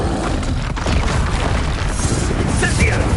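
An Incendio fire spell cast in Hogwarts Legacy gives a loud, rumbling booming roar that fills the whole stretch with crackling noise, with a brief squeal of other game effects toward the end.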